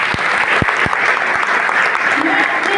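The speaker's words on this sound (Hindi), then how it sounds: "तालियां नहीं चाह रही हूँ यहाँ" Audience applause fills the hall at a public talk about a sanitary pad bank, a steady wash of many clapping hands at full volume, with a few sharp low thumps near the microphone.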